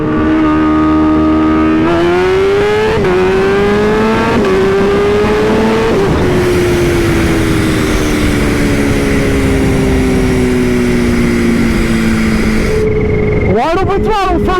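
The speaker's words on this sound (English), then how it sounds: "Wide open throttle, first gear." Kawasaki Ninja H2 motorcycle, tuned to 352 hp, at wide open throttle in first gear: a loud, continuous engine roar with rising pitch through long pulls, close and dominant, with a voice speaking over it.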